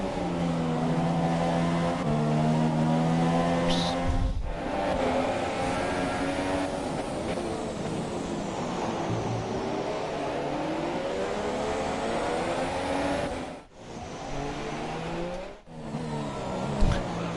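F1 race cars in the F1 2017 video game at the Bahrain circuit, a continuous loud high-pitched engine whine as several cars run in a line, with gear shifts and pitch sweeps and brief dips.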